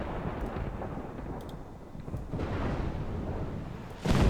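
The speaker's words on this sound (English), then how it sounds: "And we'll just start off in a storm." Stormy weather in the video game Life Is Strange: a steady low rumbling wash of wind and rain with rolling thunder-like booms, growing louder and heavier near the end.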